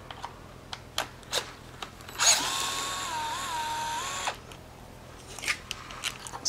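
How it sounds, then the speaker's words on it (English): A DeWalt cordless drill whirs for about two seconds close by as it drives a screw during a Honda Ruckus scooter build, with light clicks and handling before and after. "This DeWalt, so to tight, to screw in, just turn to your right."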